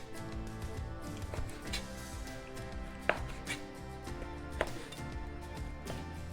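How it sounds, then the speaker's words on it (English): A knife cuts pork belly with the skin still on into bite-sized pieces, giving a few soft, sparse chopping taps on a board beneath steady background music. "I'm cutting this into bite-sized pieces."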